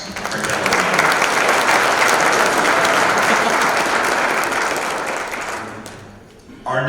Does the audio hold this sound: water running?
no